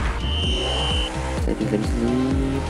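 Car-football video game with a car drifting, tires squealing in a sustained screech over continuous engine roar and music, loud and close throughout.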